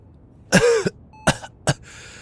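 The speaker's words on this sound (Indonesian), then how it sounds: "Jadi masih batuk-batuk." A voice acts out a few coughs during an Indonesian role-play about a sick boss: one longer throaty cough followed by two short, sharp bursts, close and fairly loud against a quiet background.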